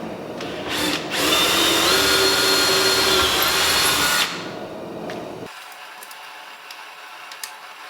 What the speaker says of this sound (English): and drill them out.